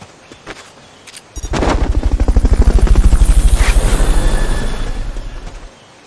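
A helicopter's heavy rotor thump in Metal Gear Solid Peace Walker rises in quickly, pounding rapidly and loudly for several seconds before cutting off, with a few sharp clicks before it.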